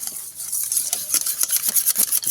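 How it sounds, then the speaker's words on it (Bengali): Chhena gets beaten with a hand whisk in a bowl for a sweet, giving a fast, continuous run of close, bright metallic scrapes and ticks at an even rhythm. "এই ছানাটাকে ভালো করে হ্যান্ড উইস্ক দিয়ে একটু ফেটে নিতে হবে।"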